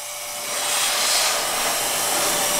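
MOTRINE cordless air duster blowing air, a steady loud hiss that swells after half a second and holds, close and alone.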